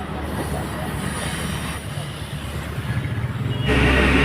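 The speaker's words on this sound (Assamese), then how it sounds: "এতিয়া বহুত দেৰি ৰখি ৰখি ট্ৰেইন গ'ল" A train passing close by, its wheels rolling and squealing on the rails in a loud, continuous roar that grows heavier toward the end.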